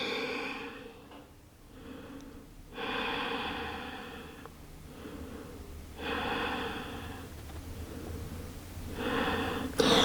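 Slow, deep yoga breaths during a practice, with long audible exhalations and inhalations through the nose alternating in a steady rhythm, close and fairly soft, each breath lasting a second or more, with no talking.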